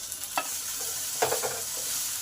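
Moringa drumstick stems fry in a pan with a little water, giving a soft, continuous sizzle broken by a few scraping strokes as they are stirred.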